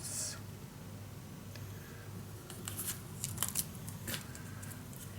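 Scissors snip through scrapbooking paper in several quick, crisp cuts up close, with a few papery rustles and faint room noise around them.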